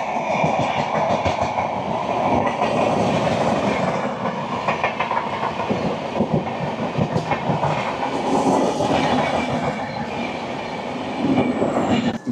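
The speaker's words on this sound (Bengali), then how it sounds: "চলে আসছে কান্ডারি এক্সপ্রেস উইথ WAP4 লোকোমোটিভ" An Indian Railways Kandari Express hauled by a WAP4 electric locomotive passes near Mecheda, producing loud continuous wheel rumble and clickety-clack with some squeal, close and sustained without talk.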